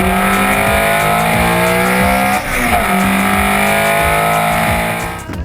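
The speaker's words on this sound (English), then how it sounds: "I'm running a Honda B-Series motor with a couple of hidden secrets." Street drift car with a Honda B-Series engine, loud and close, the engine howling at high revs with a brief dip and recovery midway, steady throughout.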